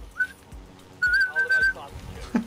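A person whistles two sustained notes, a brief one then a longer held tone, mixed with dull thumps and a murmur of voices in the background.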